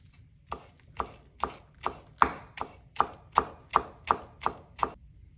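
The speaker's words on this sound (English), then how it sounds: "Start with your biggest basil leaves, stacking them from biggest to smallest, roll them up, and proceed to chop." A knife chops through rolled-up stacked basil leaves on a cutting board, about a dozen crisp, evenly spaced strokes ringing out close and clear with no talking.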